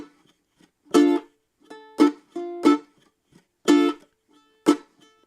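Ukulele Latin-style strum with right-hand muting: short percussive chops and brief ringing chords in a syncopated rhythm, alternating muted clicks with bright strums, played alone.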